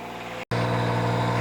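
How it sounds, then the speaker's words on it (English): Engine of a Stepp SPHOJ 4-ton auger unit with tack tank running at a steady idle, a low constant drone with a brief cut before it resumes slightly louder. "So now once the engine's started, you can hear once I close that cabinet, it's fairly quiet"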